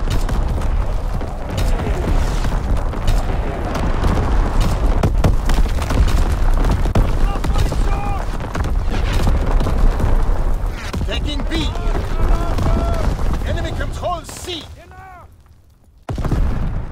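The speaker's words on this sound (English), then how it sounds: "Firing primary battery." Naval artillery batteries in the Call of Duty WWII game fire and explode repeatedly: heavy booms and rumbling blasts overlap, with radio-style voices and game sounds above them, then a brief drop near the end.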